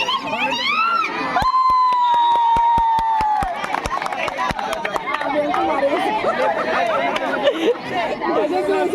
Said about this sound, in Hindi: चिल्ला रहे हैं, औरत इतने चिल्लाते हैं।